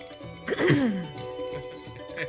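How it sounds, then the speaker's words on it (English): A single throaty throat-clear or cough-like rasp, close and fairly loud, followed by quieter room sounds and faint voices murmuring. "Clear your throat."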